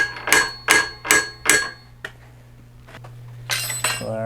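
Punch cutting holes in 1.5-inch steel angle iron for a motocross starting gate: four loud, evenly spaced metallic strikes, a quieter tap, then a harsher burst near the end, all close by.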